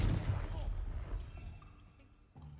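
A Confringo fire blast spell goes off in Hogwarts Legacy, a heavy boomy burst at the start that rumbles and fades over a couple of seconds, with a smaller impact near the end.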